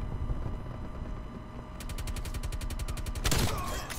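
Video game gunfire plays as a rapid machine-gun burst of evenly spaced shots, followed by a louder explosive blast, over a constant background hum of game ambience.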